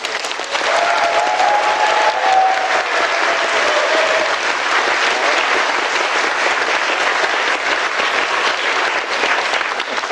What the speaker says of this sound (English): I invite everyone to give the last big round of applause to Mr. Gates.